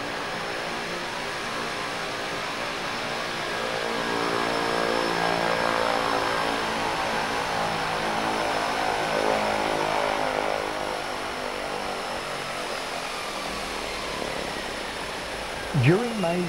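A Cresco turboprop agricultural aircraft flies overhead with a steady, loud engine drone that swells in the middle and fades slightly, its tone shifting as it passes.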